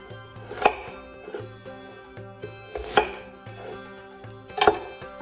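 Knife chopping onions finely on a board, three bursts of rapid close chops separated by short pauses, with no talking.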